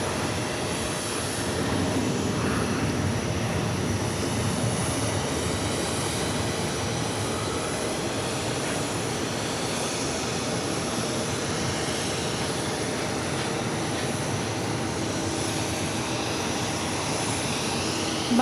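A heavy Airbus A330 lands on runway 22 left at New York's JFK airport, its engines producing a continuous broad roar that stays steady and fairly loud for the whole stretch, with no talk.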